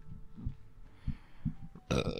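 A person burps on a podcast, a short, close, throaty eructation with a few low pulses, followed by a burst of voices.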